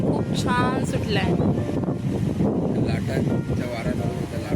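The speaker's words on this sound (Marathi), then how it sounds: "आणि वारा पण खूप छान सुटलाय." Strong sea wind on the coast at Malvan, a constant low buffeting rush against the microphone with people talking close by over it.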